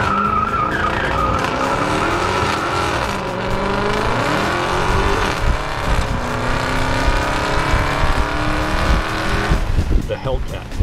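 A Dodge Charger SRT Hellcat with a supercharged engine races around a track, its loud engine roaring and shifting pitch as tires squeal through corners, with someone talking over it.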